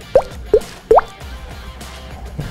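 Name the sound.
water drop sound imitated with the mouth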